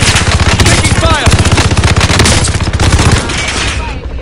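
Dense video-game gunfire from a crowded multiplayer battle, rapid machine-gun bursts and overlapping shots running loud and continuous throughout, with excited voices talking over the fighting.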